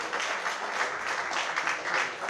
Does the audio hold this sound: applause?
yes